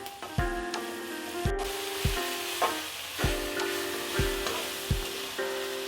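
Vegetables sautéing in a pan for green pea fried rice, with a steady sizzle under regular scraping strokes of a spatula against the pan, close and moderately loud, with a low hum underneath.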